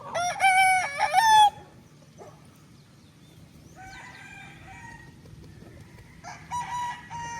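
A stag gamecock crows loudly and close at the start, followed by a quieter crow and then another in the distance, with faint clucking between calls.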